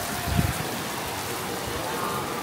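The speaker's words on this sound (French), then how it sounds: "Il pleut." Steady rain falls at an outdoor theme-park resort in Walt Disney World, a continuous even hiss throughout with a brief low thump near the start and no talking.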